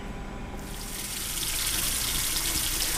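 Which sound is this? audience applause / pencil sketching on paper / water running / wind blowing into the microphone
water running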